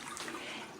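Cold water runs steadily from a house tap, a soft continuous trickling splash heard close and alone.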